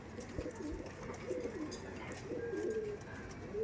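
Rajan Bali breed pigeons, a lively female and a male handled up close, coo softly and steadily throughout with no clear speech.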